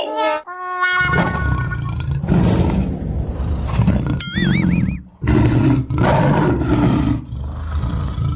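A tiger roars loudly in an animated jungle comedy, giving several powerful bursts. Squeaky cartoon effects and a rising, wobbling whistle sound between them.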